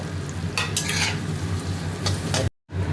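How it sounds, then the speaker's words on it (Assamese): Oil sizzles steadily in a pan with potatoes for a chicken dish, a loud, dense crackle close by, joined by a few scraping stirs before a brief dropout. "ইয়াতে তেলটো এইটো ফ্ৰাই কৰি আছোঁ, লগতে আলুখিনি দি দিছোঁ।"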